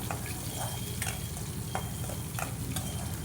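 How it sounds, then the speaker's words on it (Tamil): Pirandai (adamant creeper) sautéing in a pan for a kuzhambu, with a constant close sizzle and a few soft scraping stirs at irregular intervals, with no voices. "நல்லா கலர் மாறுற வரைக்கும் இதை வந்து வதக்கணும்."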